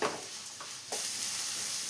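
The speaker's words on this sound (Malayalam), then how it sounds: "ഇനി ഇതെല്ലാം കൂടെ ഈ എണ്ണയിലിട്ട് വഴറ്റി നന്നായി ഒന്ന് വേവിച്ചെടുക്കണം." Vegetables for rava kichadi sautéing in hot oil with a steady sizzle, a few stirring scrapes near the start and a louder burst of frying about halfway through, close and alone.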